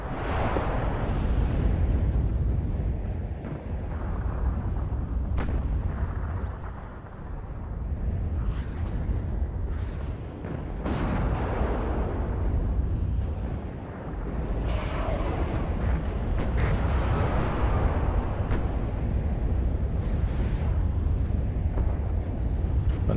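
Artillery barrage in WARNO, a Cold War strategy game, rumbles as a continuous stream of deep, overlapping explosions, loud and heavy throughout with bursts swelling and fading in waves.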